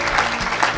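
Audience hands clap steadily to cheer the Lord at an evangelical church gathering, a dense close burst of applause with a voice faintly under it.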